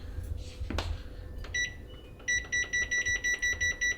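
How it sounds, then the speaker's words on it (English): A kitchen timer is set for baking a Mountain Dew cake: a few soft button clicks, then a steady run of about eight short, evenly spaced high beeps, fairly close and loud in a quiet room. "And then I'll set my timer."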